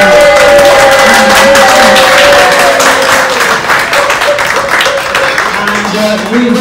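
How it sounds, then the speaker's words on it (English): A crowd of solo guests at a cruise ship's Botanical Bar claps and cheers loudly and steadily, a dense close wash of hands with whoops rising over it, holding for several seconds. "Give us a cheer to the solo guests."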